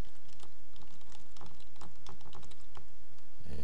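A computer keyboard being typed on in a quick, continuous patter of close keystrokes, with a soft thump near the end and no voices.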